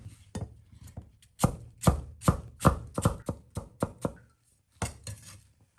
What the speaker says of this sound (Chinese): 用刀切成1厘米厚的薄片，再切成长条，改刀成小丁。